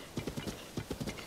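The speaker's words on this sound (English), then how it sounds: "Oh no, the horse appears to be a bit rebellious." Horse in a Zelda game in Hyrule, with rapid clip-clop hoofbeats in two quick bursts, close and moderately loud with no talking.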